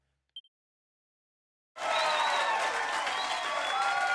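A party member cheers in the Dragon Quest III HD-2D Remake: after a brief tiny chime and a second of silence, a sudden loud burst of crowd-like applause and cheering rushes in and holds steady to the end.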